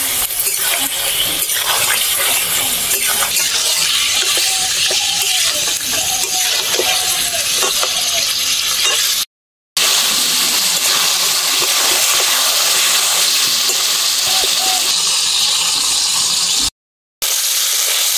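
Yam pieces and slit green chillies fry for a chicken curry with a loud, dense, continuous sizzle. The sizzle runs close throughout, with two brief dropouts.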